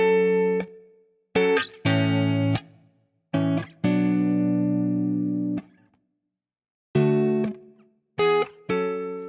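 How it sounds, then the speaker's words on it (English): A tonal instrument or synth phrase played through the HitVerb convolution reverb plugin modeled on the Hit Factory studios: short and sustained notes in bursts with silent gaps, each note ending in a brief reverb decay. "We can adjust the early reflection as well as the reverb tail level."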